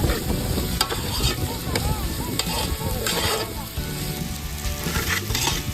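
Ground coconut tipped into a pot of ginger-garlic paste fries with a steady, dense sizzle and crackle, cooked outdoors over a village field fire, continuous and fairly close for the whole stretch.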